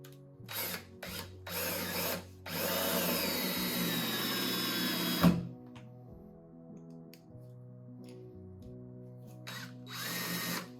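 A power drill drives long screws while a Nest x Yale smart lock is installed, several short whirring bursts followed by a long sustained run, then more brief spurts, close and clear.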